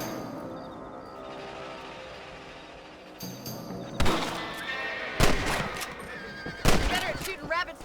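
Gunshots ring out at rabbits in Red Dead Redemption, a few sharp, separate blasts with short echoing tails coming after a quiet stretch of game ambience, with game voices heard.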